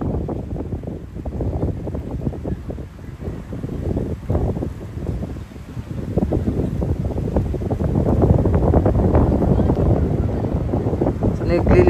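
Strong wind on a Manila Bay beach during a nearby waterspout roars steadily into the microphone, a dense buffeting rush with low rumbling gusts that swell louder toward the end.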